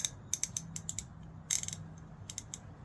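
A ratchet wrench removes spark plugs on a 1995 Nissan Maxima, giving close, crisp bursts of rapid clicking in several short runs, with quiet pauses between strokes.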